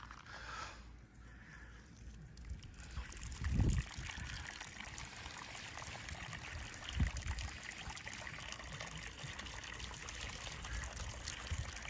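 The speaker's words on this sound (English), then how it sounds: "All right, I'm gonna turn on some water now" Water runs from a tap during a mercury gold-recovery retort setup, a steady close trickling and splashing stream with a couple of low thumps and no talking.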